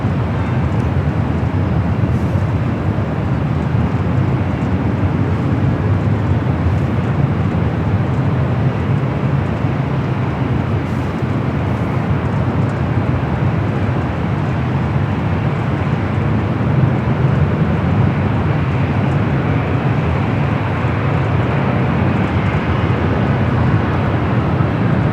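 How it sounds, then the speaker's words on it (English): A Boeing 747-8 freighter arrives at Los Angeles airport, a loud, steady, broadband jet rumble sustained without break for the whole stretch. "747-8 freighter up next for arrival there on the south."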